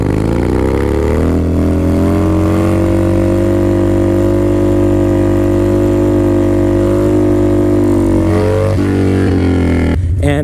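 A Harley-Davidson Dyna motorcycle engine drones loud and close with a steady low throbbing note during wheelie riding, pitch holding fairly even before shifting near the end; no talking.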